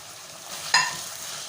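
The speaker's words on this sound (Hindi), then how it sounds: "और इसको अच्छे से भूनेंगे प्याज डालकर।" Ground onion frying in beef pasanday gravy for a Hyderabadi-style dish gives a steady, close sizzle, with one brief stirring scrape partway through.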